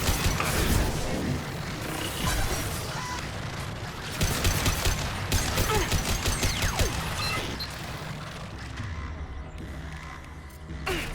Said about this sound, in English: Automated flight weapon ready. Firing.